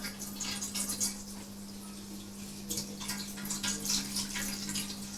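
Water added to a Bengali aar fish curry with mustard paste simmering in a pan, heard as a soft irregular splashing and trickle with a few bright bursts over a steady low hum, fairly close and moderate in level.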